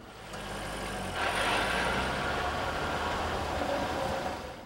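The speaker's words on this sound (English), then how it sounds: "Some customers have asked about a mechanical buzz or rattle noise coming from underneath the car." A 1999 Chevrolet Corvette gives off a mechanical buzz or rattle from its driveline underneath the car, a steady rumbling drone that swells slightly partway through and then holds, with no talk over it.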